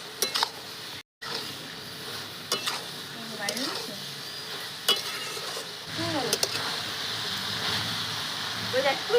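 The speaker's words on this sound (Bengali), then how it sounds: "সবজি প্রায় ভাজা ভাজা হয়ে গেছে" Vegetables with turmeric fry in a pan while a utensil stirs and scrapes them in irregular bursts, a steady close sizzle underneath and a brief dropout near the start; a voice talks faintly at times.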